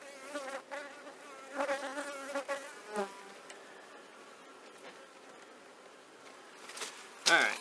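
Honey bees buzzing around an opened hive during an inspection, a continuous close insect drone with louder swells early on and a sharp burst near the end, no speech.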